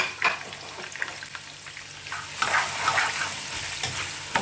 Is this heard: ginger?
yes